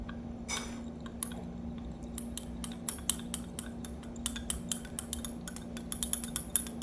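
A homemade version of the Bergamask perfume is stirred in glass, giving a run of light, quick clinks and taps over a steady low hum, close and fairly quiet.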